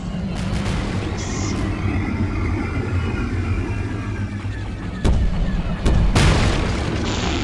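Ship weapons fire in the X-Wing space-combat game: a steady engine rumble with a couple of sharp booming shots near the end, loud and close.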